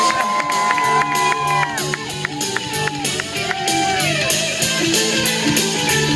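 A lively audience at a stage hypnosis show cheers, whoops and shouts loudly over bright instrumental music with fast tonal runs, the noise staying continuous and energetic throughout.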